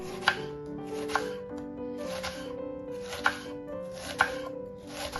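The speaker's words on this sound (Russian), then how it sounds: "Нарезаем его тонкими полукольцами и отправляем на сковороду с ложкой масла." A knife chops through a medium red onion on a board into thin half-rings in a slow, steady rhythm of crisp strikes, close up, with quiet rustling between cuts.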